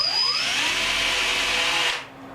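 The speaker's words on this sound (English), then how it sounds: "So, I'm going to drill a hole in here" A power drill whines up to speed and grinds steadily for about two seconds boring a hole in wood, then winds down and stops.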